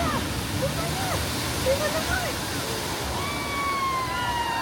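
Water splashing and sloshing from the River Adventure boat ride at Islands of Adventure, heard at night as a steady rushing wash near Jurassic Park's entrance, with faint crowd voices and whistling tones in the background.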